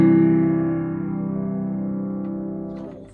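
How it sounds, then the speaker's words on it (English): A Samick upright piano in polished mahogany sounds a chord held with the sustain pedal, ringing warm and full and then slowly decaying without a break. "So it's a sustain pedal for sustaining the note, which sounds like this."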